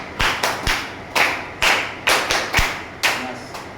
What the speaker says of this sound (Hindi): स्काउट गाइड ताली हुआ, बच्चे को सिखाना है।